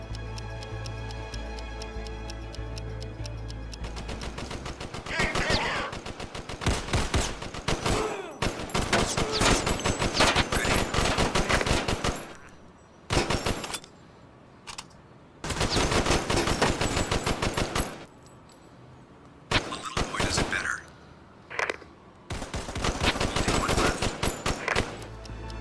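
Rapid bursts of gunfire ring out from a PS4 VR shooting game, loud and repeated in long automatic volleys separated by short pauses, with a few brief quieter gaps between strings of shots.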